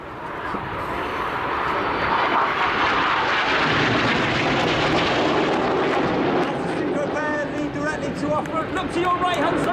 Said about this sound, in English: Red 8 coming in, 450 miles per hour with a blue smoke in trail